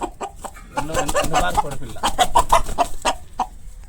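An Aseel rooster and chicks cluck in quick, irregular bursts close at hand, with sharp repeated calls over a quiet background and a voice faintly present.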